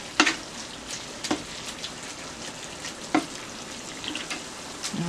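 Malanga coco bitter balls fry in hot oil with a steady bubbling sizzle, broken by a few sharp pops and spatters. The frying sounds close and fairly loud, with no talking.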